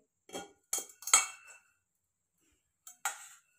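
Roasted peanuts scraped and scooped from a pan onto a plate, likely a metal pan over a village wood-fired stove, giving a few short clattering metallic scrapes and clinks in separate bursts, close and fairly quiet.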